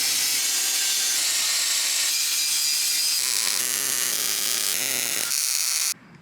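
Stainless steel exhaust Y-pipe on a C10 truck being cut with a power tool, giving a steady, loud, broadband grinding whine that holds for about six seconds before it stops abruptly.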